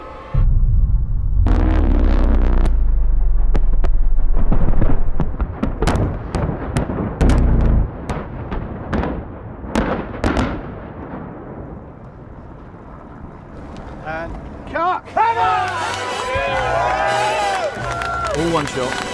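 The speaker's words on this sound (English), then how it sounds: "Largest explosion in the history of movies." A record-breaking film explosion from the Spectre set, 24 one-kilogram high-explosive charges, erupts as a loud, deep rumbling blast that decays into scattered sharp cracks and debris, with crowd noise and voices rising near the end.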